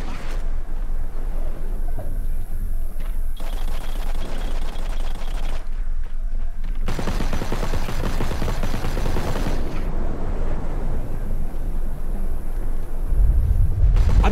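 Gunfire in the sci-fi shooter The Cycle: repeated loud bursts of automatic fire alternating with short pauses, the bursts dense and punchy, ending in heavy low-end rumble.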